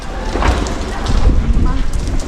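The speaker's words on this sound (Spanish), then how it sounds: "se ha levantado viento y mucha lluvia" Heavy rain and gusting wind sweep a street in Portugal, a loud, dense wash of noise that swells and rumbles without a break.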